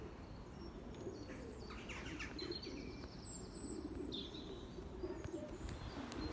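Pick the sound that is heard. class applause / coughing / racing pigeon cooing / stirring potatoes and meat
racing pigeon cooing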